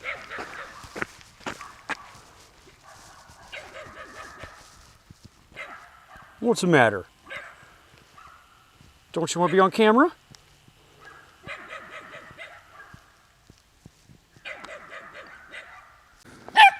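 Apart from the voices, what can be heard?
small Kentucky dog barking at hiker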